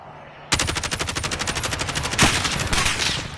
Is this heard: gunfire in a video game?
yes